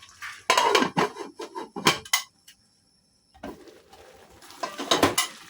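A pot of pinakbet on the stove is covered with its lid: several close metallic clanks and rattles, a brief silent pause, then another burst of clattering cookware.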